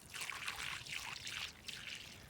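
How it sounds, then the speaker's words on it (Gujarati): Water poured slowly from a bucket onto plants in a farm plot trickles and splashes steadily and softly for a couple of seconds, with no one speaking. "આપણે ડોલથી અહીંયા પાણી પાઈ દઈ તો ધીરે ધીરે પાણી જવા દેવાનું"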